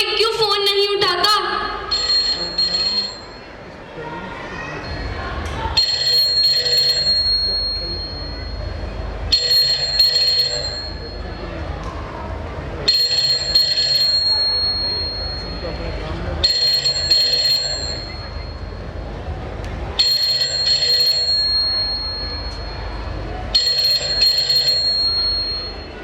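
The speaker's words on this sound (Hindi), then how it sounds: "वो फोन की घंटी बड़ी देर से बज रही है।" A telephone rings on and on during a school annual function performance, in evenly spaced bursts about every three to four seconds, with a low murmur of background sound between the rings.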